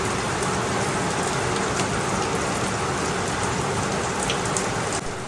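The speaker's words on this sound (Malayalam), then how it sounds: "ഉച്ച കഴിഞ്ഞപ്പോഴേക്കും നല്ല മഴ അങ്ങ് തുടങ്ങി." Heavy monsoon afternoon rain pouring down in Kerala, a dense, steady hiss of drops drumming on surfaces, continuous and close with no voices.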